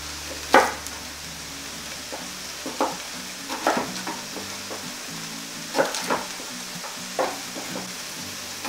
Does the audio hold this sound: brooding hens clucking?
no